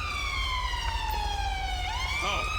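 A police car siren stuck on in GTA 5 wails steadily in a long falling tone, then sweeps up again, loud over a constant low engine rumble.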